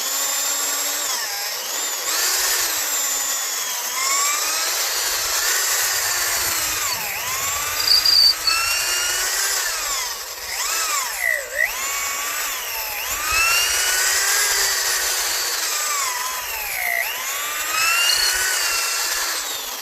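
A power drill runs in long continuous bursts while boring holes into wood, its whining pitch sagging and recovering under load, loud and close with brief pauses between runs.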